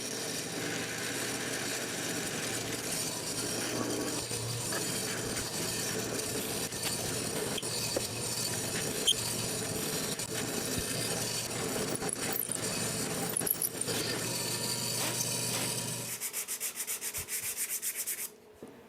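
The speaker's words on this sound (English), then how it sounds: "and I will glue and screw those together." Power driver sinking 3-inch screws to glue and screw wooden side stretchers together for a stave drum jig; a continuous whirring, grinding drive sound runs steadily for long stretches, ending with a few brief bursts.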